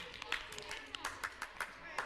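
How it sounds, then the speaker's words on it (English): A small audience at a community program clapping in short, scattered bursts, fairly faint and uneven, with a room-toned background. "Give yourselves a round of applause."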